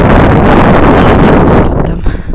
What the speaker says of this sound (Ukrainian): Ой, вітер такий теж дує.